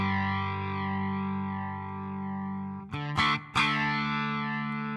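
A Headrush guitar rig with its distortion effect on plays a sustained, gritty overdriven electric guitar tone that rings out for about three seconds, then two quick sharp strums cut through and decay.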